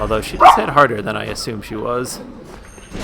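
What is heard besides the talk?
dog barking at someone outside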